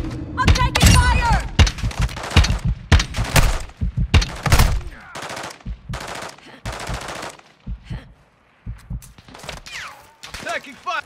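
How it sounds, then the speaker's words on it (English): Loud bursts of automatic gunfire and scattered single shots crack through a Call of Duty: Modern Warfare II firefight, close and rapid, with voices shouting between the volleys. "I'm taking fire!"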